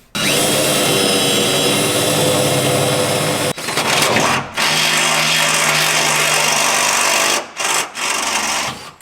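A power drill bores a hole into a pickup truck's bed channel to mount a nerf step bar bracket, a loud, close, steady whine that cuts off briefly and restarts several times.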